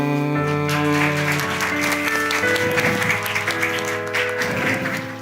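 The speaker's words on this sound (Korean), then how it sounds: "큰 박수 해주시길 바랍니다" Applause from a church congregation during a Methodist Sunday service scholarship presentation, steady and dense throughout over sustained organ or keyboard chords, with faint speech mixed in.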